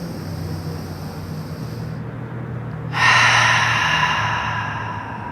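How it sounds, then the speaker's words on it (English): A deep cleansing breath drawn during a yoga session, heard as a soft steady airy rush that swells into a stronger, brighter exhale partway through, close and unaccompanied by speech. "Take a big final cleansing breath"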